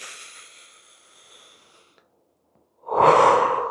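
Deep, powerful human breathing, a softer sustained breath fading out, a brief silence, then a loud, close, rushing exhale like a strong sigh.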